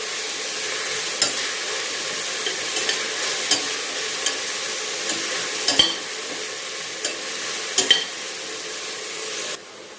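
Ridge gourd and green chilli frying in a pan with a steady low sizzle, punctuated by a dozen or so soft clinks and scrapes of a spoon stirring, close and moderately loud, with no talking.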